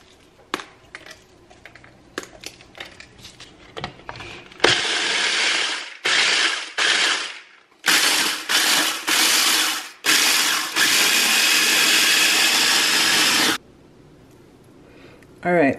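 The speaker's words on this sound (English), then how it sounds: "This is actually the boy's little mini food processor." A small mini food processor grinds graham crackers in loud, buzzing whirs, several short pulses followed by one long sustained run, after scattered clicks and clatter as it is set up.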